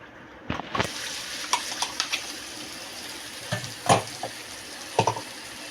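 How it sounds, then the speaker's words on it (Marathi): Ground spice paste stirred and sautéing in a pan with softened onion and tomato for a cashew curry gravy, giving a low frying hiss with a few scattered scraping clinks of the spoon, close by and quiet. "हे आपण इथे आता परतून घेणार आहोत"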